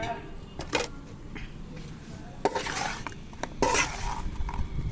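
Fried pieces being mixed by hand with salt and chili powder in a bowl, with irregular close clinks, scrapes and rustles of utensils against the dish in short bursts.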